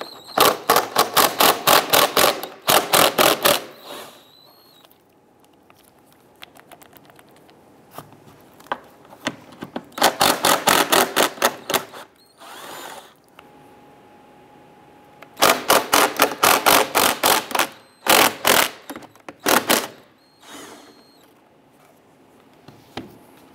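A ratchet wrench loosens 10 mm bolts on the A/C condenser cooling fan of a 2002-2008 Dodge RAM, in fast bursts of close, sharp clicking separated by quiet pauses.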